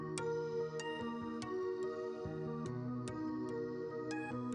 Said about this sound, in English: but with a guitar with longer notes, more notes, and it sounds like this.